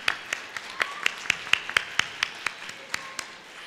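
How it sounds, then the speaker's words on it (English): Sparse applause at a live Asian New Year event: evenly spaced hand claps in a steady rhythm, about four per second, fairly close, with faint background hiss. "One more round of applause for Trina."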